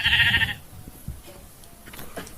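Goats give one loud, close bleat, followed by quieter shuffling and faint rustling outdoors.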